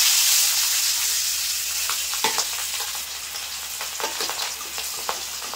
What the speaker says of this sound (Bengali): এবার মাছের পিসগুলো ভেজে নেব।